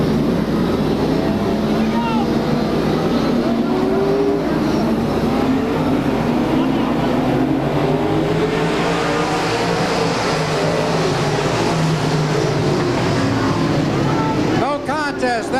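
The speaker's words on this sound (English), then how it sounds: "Rob Goodenough got the jump on Peter Daniels and takes over the lead" Stock cars racing at Claremont Speedway, a continuous droning roar of several engines circling at a distance, with a commentator's voice talking over the noise.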